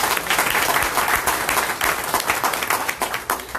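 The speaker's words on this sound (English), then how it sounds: "And I think everybody deserves a round of applause." Audience at a Partners in Torah gathering in Houston applauding, a dense, even clatter of many hands clapping steadily at close range, with faint voices underneath.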